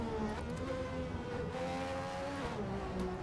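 Aston Martin Valkyrie V12 engine revving toward 10,000 RPM on a track, a steady loud howl with rising and falling harmonic tones throughout.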